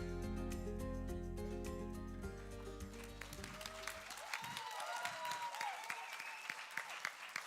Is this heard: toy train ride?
no